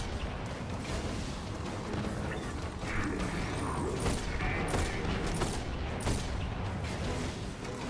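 Gunfire in the video game Destiny, with rapid bursts of shots and mechanical clatter over a busy, dense game soundscape that stays at a steady level throughout, with no talking.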